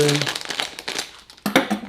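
Crisp plastic crinkling and rustling, close by, in irregular bursts with a short pause before a final louder rustle.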